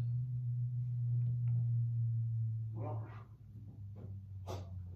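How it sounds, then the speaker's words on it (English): A basset hound puppy gives soft whimpers and a few short yips over a steady low electrical hum, faint and fairly close. "That's my dog."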